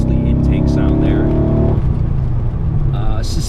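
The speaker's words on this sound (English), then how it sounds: "The major modifications though to this that make this thing so fun to drive, as you can hear, mostly intake sound there." A modified 1996 Impala SS with a 383 LT1 engine, its loud intake roaring as the revs climb and then drop away to a deep rumble, heard close up with a voice talking over it.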